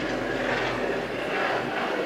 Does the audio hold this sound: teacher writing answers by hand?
no